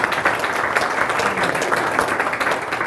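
An audience at a Veterans Day celebration claps steadily in a dense, continuous round of applause throughout, fairly loud and without speech.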